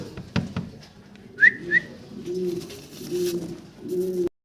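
Pigeons at a pigeon sale, with a soft low cooing that runs through most of the stretch, a couple of short bright whistle-like chirps near the middle, and a few sharp knocks at the start.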